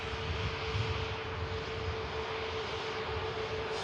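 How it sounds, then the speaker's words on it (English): A Virgin Atlantic Airbus A330 airliner lines up on the runway at Manchester Airport, its engines giving a steady, moderately distant rumble with a sustained whine throughout. "Virgin Atlantic 330 about to line up"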